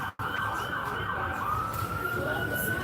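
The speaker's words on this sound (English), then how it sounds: "And let the fire engine go by here." A fire engine siren wails steadily and loudly as the truck passes close by on a street in Santa Rosa, California, its pitch sweeping continuously over road noise.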